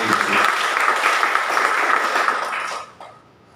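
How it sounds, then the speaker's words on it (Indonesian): A church congregation bursts into loud, dense applause that holds steady for a few seconds before fading out near the end. "Tepuk tangan yang paling kita buat Tuhan Yesus."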